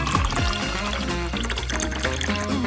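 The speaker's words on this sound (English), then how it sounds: "I'll pour it into the jug." Milk is poured into a jug in a steady liquid stream that gurgles and splashes as it fills, close and alone, lasting a few seconds.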